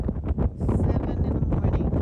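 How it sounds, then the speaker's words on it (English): Wind gusts buffet the microphone at Bethany Reservoir in the early morning, a steady, close, rumbling roar with no pauses, alone with no voices. "Listen to the wind"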